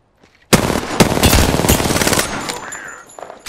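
Automatic gunfire in Apex Legends starts suddenly after a short silence and rattles loudly and close for about three seconds before tailing off.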